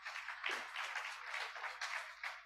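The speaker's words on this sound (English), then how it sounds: "Please give him a round of applause, Javeni." Audience applause for a speaker from the APRM Secretariat at a youth business leaders forum, a steady, fairly faint patter of clapping hands lasting a couple of seconds with no voices.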